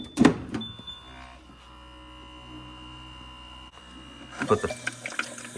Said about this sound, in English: That's how the ice maker cycles.